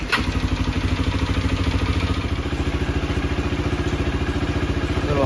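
A Honda XR 150 L single-cylinder motorcycle idles with its fuel shut off to run the carburetor dry, a loud, close, steady rapid thumping putter with no voices.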